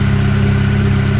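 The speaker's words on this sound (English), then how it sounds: "Gotta love the exhaust." A car engine idles close by, its exhaust note a loud, steady, throbbing low rumble with a regular pulse and no revving or talking.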